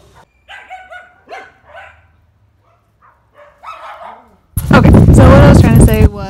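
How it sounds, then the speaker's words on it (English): Several dogs in Honduras burst into loud, close barking that lasts a second or two. Quiet conversation comes just before it. "Everyone's gonna start barking."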